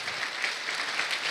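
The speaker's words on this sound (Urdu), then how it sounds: "وہ لوگ صرف خدا کے لیے تالیاں بجائیں جن کی زندگی میں خدا نے آس پاس من برسایا ہے" Applause from an audience at a talk or event, a dense, steady patter of many hands clapping that holds evenly for a moment with no voices over it.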